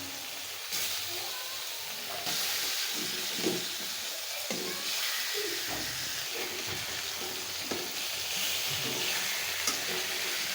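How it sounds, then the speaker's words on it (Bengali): Kalidas fish coated in cornflour fry in a pan, a soft continuous sizzle and hiss with occasional stirring scrapes, fairly quiet and steady. "মাছগুলো একটু হালকা ভাজা দিয়ে নিব"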